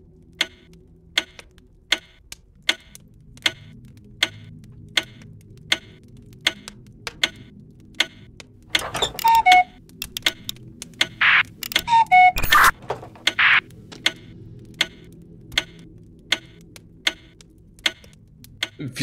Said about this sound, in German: Ah, bei mir ändert sich das Ticken.